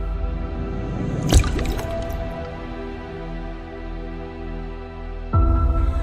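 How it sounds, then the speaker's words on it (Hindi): Water dripping from a household tap, a sharp drop-like splash standing out over a steady low background hum, with a louder sustained tone joining near the end. "आमतौर पर हर घर में पानी की टोंटियों से जल की बूंदें टपकती रहती हैं।"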